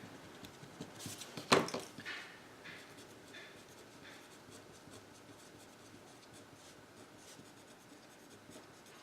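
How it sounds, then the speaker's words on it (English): Pen or pencil writing by hand on paper, a short burst of scratchy strokes early on with one sharp tap, then faint rubbing and quiet room noise. "let me write the word win"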